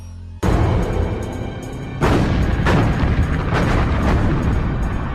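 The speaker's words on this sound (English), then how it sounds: "American shell fire has hammered away at these defenses, softening them up for an invasion" Artillery shell fire bombards defenses in a naval wartime bombardment, with heavy booming blasts and continuous rumbling explosions, loud and dense, rising sharply after a brief lull with no talking.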